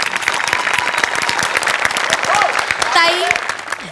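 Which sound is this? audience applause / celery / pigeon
audience applause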